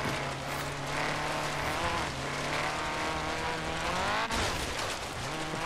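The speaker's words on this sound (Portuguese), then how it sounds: "Mas vamos aí com o som do motor" A racing car engine in the video game Forza Horizon 3 screams at high revs, its pitch climbing and dropping as it shifts gears, loud and continuous.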